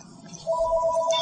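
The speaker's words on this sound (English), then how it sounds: "I heard the phone." A telephone rings once with an electronic ringtone, fairly loud and close, with a low voice murmuring faintly underneath.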